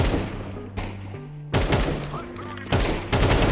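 Bursts of rapid gunfire ring out in a Counter-Strike match, several loud volleys separated by short pauses, set over game sounds and tonal effects.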